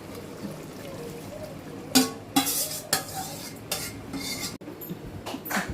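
A spoon stirs cooked bottle gourd and lentils in a pot, giving several distinct scraping clinks against the metal over a soft background hiss, with no talking.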